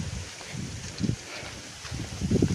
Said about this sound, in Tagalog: Kahit na malakas yung hangin